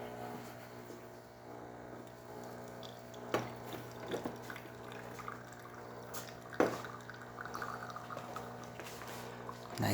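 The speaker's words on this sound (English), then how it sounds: "Nice steady stream coming out of the spouts." A freshly tuned-up Saeco Vent espresso machine pours a shot from its spouts: a faint, steady trickle over a low machine hum, with a few soft drips and splashes.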